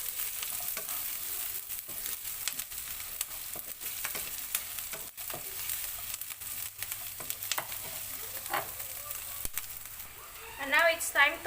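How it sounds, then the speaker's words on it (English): Garlic sautéing in a pan for Indian butter chicken gives a steady frying sizzle, broken by scraping stirs and clicks of a utensil, with a voice speaking briefly near the end. "Now we can add our garlic. Just saute for a few seconds."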